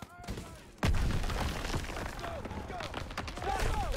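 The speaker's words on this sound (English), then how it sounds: "Gunfire! We must be near our guys." Gunfire in the Call of Duty WWII video game, with a sharp burst followed by rattling shots and distant booms, heard under voices shouting.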